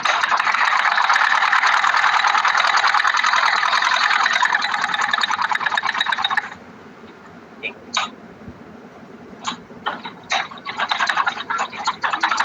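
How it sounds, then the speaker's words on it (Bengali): A sewing machine stitches around cut trouser pieces, a loud steady mechanical whirr running continuously for about six seconds, then stopping for short bursts and brief clatters with pauses between them. "এখন এটাকে যে ঘোরায় দিলাম, চতুর্দিকে সেলাই দেবো"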